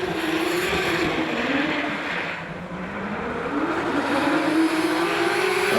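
Drift car engine revving hard through the teardrop corner at a D1NZ pro qualifying round in Wellington, a loud continuous howl rising and falling in pitch as the car swings wide at huge angle, with no talk.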